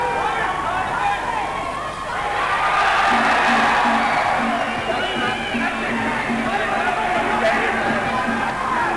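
A boxing arena crowd roars and cheers during round 4 of a fight, a dense, continuous wall of voices swelling slightly midway, with a commentator talking over it.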